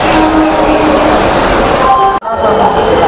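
Busy platform ambience at Secunderabad railway station: a steady, loud rumble of trains and crowd noise with voices mixed in, cut by a brief dropout near the end.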